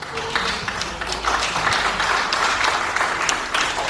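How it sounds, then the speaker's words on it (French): Audience applause for a speaker at a diocesan commission gathering, steady clapping from a modest crowd with individual claps standing out, continuous at moderate loudness. "je vous demande d'applaudir"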